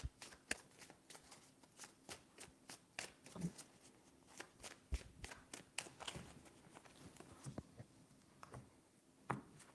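Tarot cards are shuffled by hand in a quiet room, a run of soft riffling bursts and crisp slaps coming irregularly, close and fairly faint.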